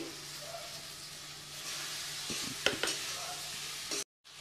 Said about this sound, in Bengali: মশলা ভালো করে নেড়ে নিয়েছি, দিয়ে দেবো ভেজে রাখা ভেন্ডি